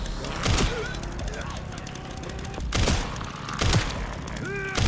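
Gunshots in the Resident Evil Requiem zombie survival game, three loud separate blasts spaced a second or more apart, set against game ambience, with tonal effects and voices in between.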